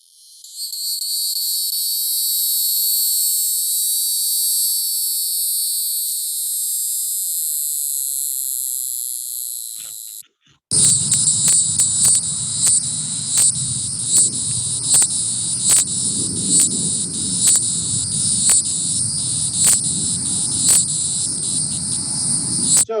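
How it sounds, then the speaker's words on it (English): Hieroglyphic cicada, a small but loud species, sings a steady high-pitched buzzing drone for about ten seconds, stops, then resumes as a close, pulsing song with regular rhythmic clicks over low background noise. "hieroglyphic cicada that is pretty common here, a smaller cicada, but packs quite a loud song"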